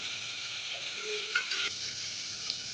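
Vegetable biryani mixture with tomato, mint and vegetables being stirred in a pan, a soft continuous scraping and faint sizzle with a couple of brief clinks, close and fairly quiet.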